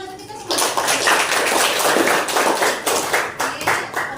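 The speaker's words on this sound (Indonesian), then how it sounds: "Tepuk tangan untuk kita semua." Applause from a classroom group during a teacher's academic supervision lesson, a dense clatter of hand claps that starts after a brief spoken word and runs steadily to the end, with voices mixed in.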